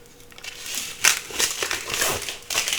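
Protective film is peeled off a thick Lexan sheet, making close, crinkly crackling and crumpling sounds in short uneven bursts.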